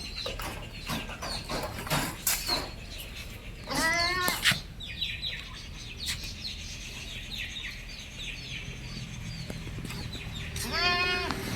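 A female crossbreed goat kid, about four to five months old, bleats loudly at close range a few times over a steady background murmur, with quieter calls in between.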